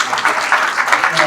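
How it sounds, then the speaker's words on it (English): Audience at a small business awards reception applauding the master of ceremonies, a steady wash of many hands clapping at moderate loudness for a brief stretch. "How about a big round of applause for Tara?"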